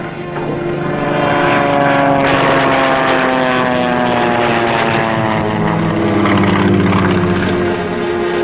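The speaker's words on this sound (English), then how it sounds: "Plane off the port beam" A propeller plane drones overhead near a submarine at sea, a loud, steady engine roar that swells and holds throughout.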